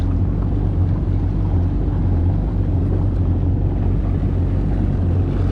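Kawasaki STX 15F and Sea-Doo Ultra LX 160 jet skis idle and warm up, a steady low engine drone with a constant rumble and some wind noise, continuous throughout.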